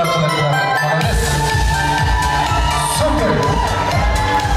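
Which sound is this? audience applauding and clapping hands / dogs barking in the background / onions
audience applauding and clapping hands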